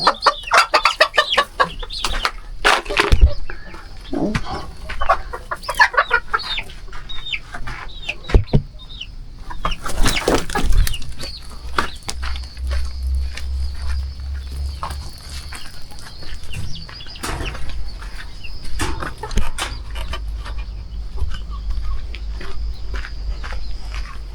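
Chickens and roosters in a village garden cluck and call close by, with repeated squawks and a rooster crow among them, against a low rumble of background noise.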